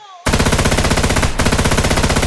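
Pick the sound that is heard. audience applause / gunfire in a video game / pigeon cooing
gunfire in a video game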